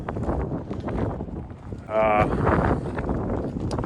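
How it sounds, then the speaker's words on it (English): Wind buffets a microphone outdoors beside a 1980 Buick Regal, a rough low rumble and gusty roar swelling briefly midway, heard under someone speaking. "Sorry about the wind."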